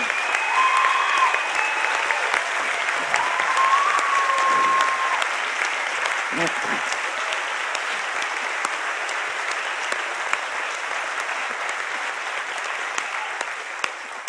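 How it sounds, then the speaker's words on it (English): An audience at the This Changes Everything event gives a long, steady round of applause, dense and fairly loud throughout, with faint whoops early on. "I really want everyone to give them a huge round of"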